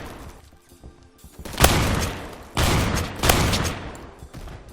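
Rapid bursts of gunfire in a Roblox Phantom Forces match with a Remington 870 shotgun loadout, sharp loud blasts in clusters over a steady background din, no talking.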